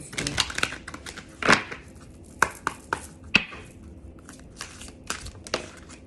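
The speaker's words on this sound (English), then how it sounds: "I'm going to do one more shuffle." Tarot cards being shuffled by hand, giving a series of soft, irregular riffling and tapping bursts, fairly close and quiet, with a few sharper snaps along the way.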